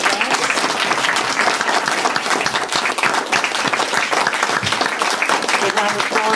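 Loud, enthusiastic audience applause after a blues performance, dense clapping with some voices and cheering mixed in, sustained throughout, with a faint tonal sound near the end.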